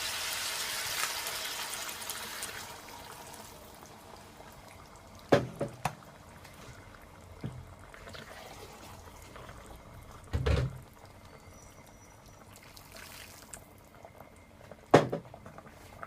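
Boiling water poured over browned pork in a covered stew pot for Jamaican stew pork, heard as a hissing, bubbling sizzle that fades, followed by a few sharp clanks and knocks of pot or utensils.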